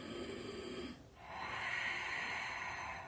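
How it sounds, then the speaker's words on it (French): Sharp nasal inhalation during a Pilates chair exercise, a close breathy hiss followed by a pause and then a longer airy breath, fairly quiet, with no talking. "Encore une fois, j'inspire."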